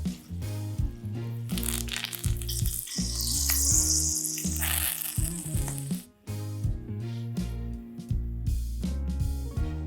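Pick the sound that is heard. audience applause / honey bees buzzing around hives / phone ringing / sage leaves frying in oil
sage leaves frying in oil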